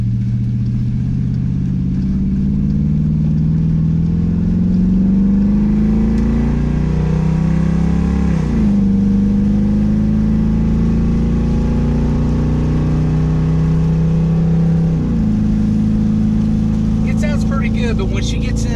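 Dodge Durango engine idling high with open electric exhaust cutouts, a loud deep steady rumble with harmonic drone that dips and wavers a few times, heard up close with brief faint sounds near the end.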